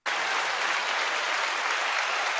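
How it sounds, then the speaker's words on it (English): Steady applause from a live audience at a soul jazz happy hour show, dense and even from the first instant and holding at one level throughout. "I'll give her an applause."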